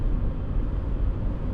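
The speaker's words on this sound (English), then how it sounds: "Just road noise?" Steady low road noise heard from inside a moving car, a constant broadband rumble with no talking.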